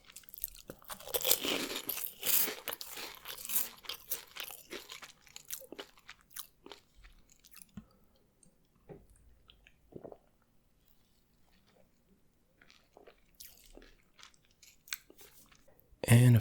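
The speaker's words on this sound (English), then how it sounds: "let me know if the crunching is too loud in these videos" Close, loud crunching and chewing of food in an ASMR mukbang, with bursts of crisp bites at first that thin out into quieter, sparse chewing and an abrupt loud sound at the end.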